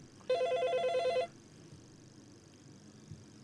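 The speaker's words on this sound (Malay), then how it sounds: "Ada satu telefon lagi." A telephone rings once in a single burst of electronic trills, loud and close, then the line goes quiet apart from a low room background.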